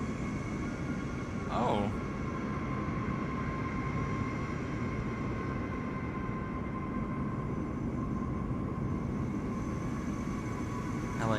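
An Airbus A380 jet hums with a steady, close engine drone at busy LAX airport in Microsoft Flight Simulator 2024, a constant broadband roar with tonal whine carrying through, a brief voice heard once.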